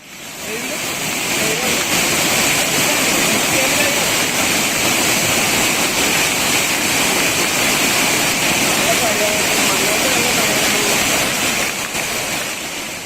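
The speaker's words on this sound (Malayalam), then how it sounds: "ശക്തമായ മഴയിൽ ഒലിപ്പുഴയിൽ മലവെള്ളപ്പാച്ചിൽ മഞ്ഞളാംചോലയും കൽക്കുണ്ട് ചോലയും കരകവിഞ്ഞൊഴുകി" A flooded mountain river after heavy monsoon rain in hilly forest country, roaring as a loud, continuous, dense rush of churning water that stays constant throughout.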